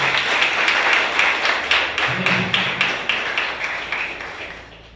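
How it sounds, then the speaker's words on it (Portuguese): A church congregation at a Sunday morning service claps in a steady, rhythmic wave that gradually tapers off, with murmured voices beneath the applause. "Vamos aplaudir o nosso Deus"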